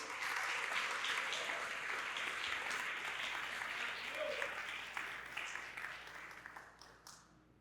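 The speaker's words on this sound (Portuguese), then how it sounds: "Você pode aplaudir o Senhor e reagir a isso?" A church congregation applauding during a sermon, a dense sustained wash of clapping that gradually fades and tails off near the end.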